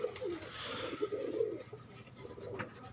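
Pigeons coo repeatedly at a pigeon-flying tournament, several low throaty calls overlapping in a steady burbling chorus close by, with no talk over them.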